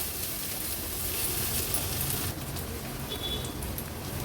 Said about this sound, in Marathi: आता हे सर्व मसाले आणि आलं लसूण पेस्ट कांद्यासोबत छान परतून घेऊया